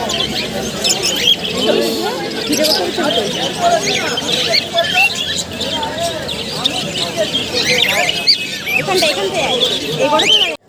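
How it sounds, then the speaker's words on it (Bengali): Many caged birds at the Galiff Street bird market in Kolkata chirp and tweet in a dense, busy chorus, with voices and market noise mixed in. "আর দেখো কত পাখি, আমি তো অর্ধেক পাখির নামই জানি না।"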